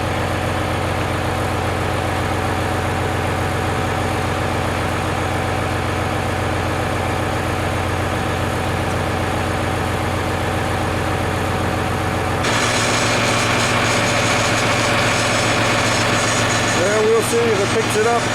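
A John Deere tractor engine runs with a steady low idling drone throughout, getting louder and busier toward the end as the machine works, with mechanical clanks near the close.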